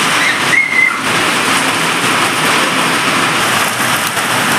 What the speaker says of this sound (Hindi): बहुत तगड़ी बारिश हो रही है।